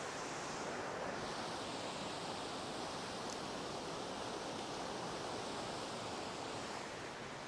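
A waterfall's steady, broad rushing roar fills the scene continuously at an even level, with no talk over it.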